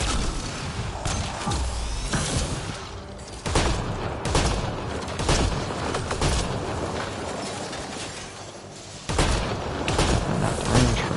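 Repeated shotgun blasts and heavy weapon fire in Mass Effect Andromeda combat, loud and dense, with booming bursts spread over the stretch amid mechanical clatter.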